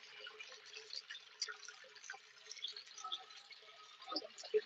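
An LG ThinQ MEGA washer drains after its main wash, producing a faint, uneven trickle and gurgle of water with scattered small splashes.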